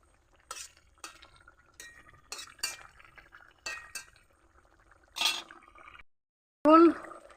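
A spoon stirs tilapia and pumpkin curry with cumin powder in a pot, producing a series of separate metallic clinks and scrapes against the vessel, light and intermittent, with a louder clatter near the end.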